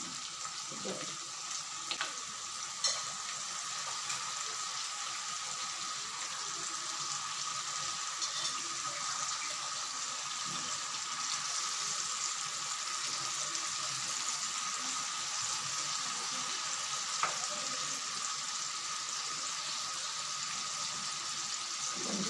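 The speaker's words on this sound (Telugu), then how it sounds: "ఈ చికెన్ దీన్ని వేస్తున్నాను" About half a kilo of chicken for a jowar millet chicken curry fries in a pan, giving a steady sizzle throughout with a few faint clinks and stirring sounds.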